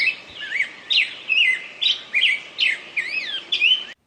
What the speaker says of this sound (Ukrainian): як співають наші пташки